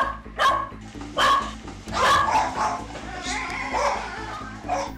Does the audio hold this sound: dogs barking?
yes